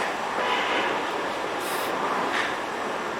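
A train platform at a south London station carries rumbling rail noise with brief metallic squeals and hissing bursts, fairly loud and close, with no speech.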